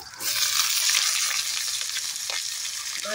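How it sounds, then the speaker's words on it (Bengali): Cut potatoes sizzle in hot oil, a loud, dense, continuous frying hiss that stays steady from start to end, close up with no talk. "তেলের মধ্যে প্রথমেই দিয়ে দেবো এই যে কেটে রাখা আলু। আলুগুলো দিয়ে খুব ভালো করে ভেজে নেব।"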